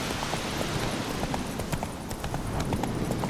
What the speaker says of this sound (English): Now, practice your horse riding.